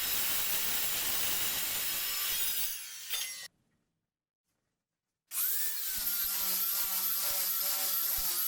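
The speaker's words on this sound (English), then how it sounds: "this is pretty thin stuff, so I should be able to go through it with one of the saws I've got" Thin sheet metal from a Weber 28-inch griddle being cut with a power saw: a loud, dense, harsh rasp that runs steadily, cuts off into a brief silence, then resumes with a whining, ringing edge.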